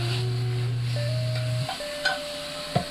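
Vegan barbecue pulled "pork" fries in a pan with a loud, steady sizzle, joined by a few scraping stirs near the end, and no voices.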